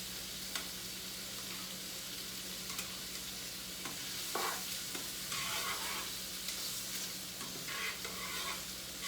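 Shrimp fry in a pan with a soft, steady sizzle and occasional stirring scrapes, close but fairly quiet, with no talking.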